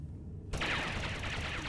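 Rapid gunfire erupts in Star Wars: The Old Republic after a moment of near silence, a dense, steady burst of shots that runs on without pause.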